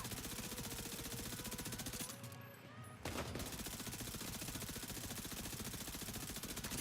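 Continuous rapid gunfire in a shooter video game, a dense unbroken rattle of automatic shots that briefly drops away mid-clip before resuming at steady loudness.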